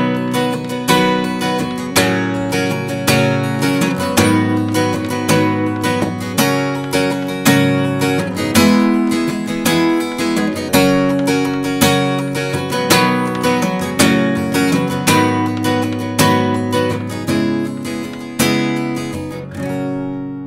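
Acoustic guitar plays the chorus of a song, steady strummed chords with regular rhythmic accents, close and full, alone without any voice throughout.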